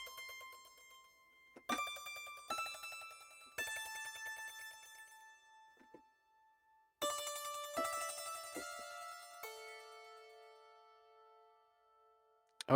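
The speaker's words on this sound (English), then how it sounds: "This is the marxophone." Marxophone run through a sound design plugin, bright metallic struck tones with hammered trills ringing and decaying in several separate phrases, clean and close with no talk.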